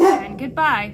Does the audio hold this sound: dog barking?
yes